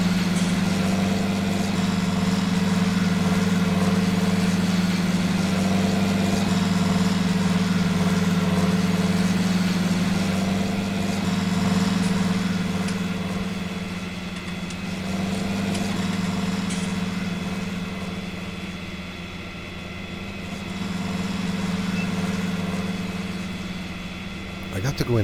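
A hefty tractor in a farming simulation game labours uphill under a heavy load, its engine droning steadily and loudly with a low hum that rises and falls slightly, while someone talks over it.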